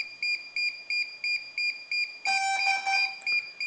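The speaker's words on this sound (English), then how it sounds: "1 loud beep and 2 short beeps." A DJI RC Pro remote controller beeps while pairing: a run of regular electronic beeps, then a louder, longer tone followed by quick short beeps, close and clear with no talk.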